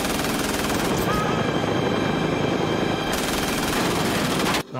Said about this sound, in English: An automatic pistol.